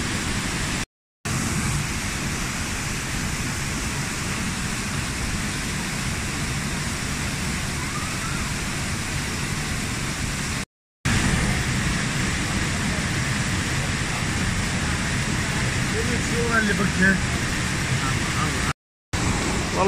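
Ahmed Awa waterfall in Kurdistan, Iraq, a dense, steady roar of falling water that fills the scene without pause, broken only by brief cuts, with voices faintly talking beneath it.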